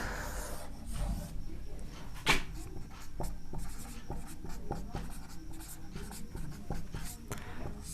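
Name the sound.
teacher writing out the maths problem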